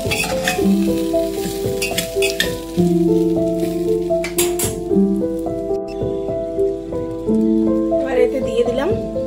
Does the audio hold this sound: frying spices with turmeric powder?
yes